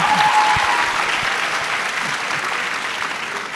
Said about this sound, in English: let's give a great round of applause to Cynthia for doing this with us